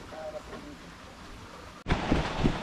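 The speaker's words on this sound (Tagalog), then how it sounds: "Parang sinusundan ako ng ulan." Rain starts to fall outdoors, first a soft patter under low murmuring voices, then a sudden jump to a loud, dense downpour with voices still faintly audible.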